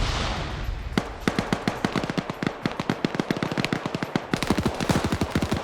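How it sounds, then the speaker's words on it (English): Rapid bursts of automatic gunfire in a competitive multiplayer shooter match, sharp repeated shots crackling in quick rhythmic strings over several seconds, loud and close, with brief pauses between volleys. "G-Legs quick to immediately move after hearing those gunshots."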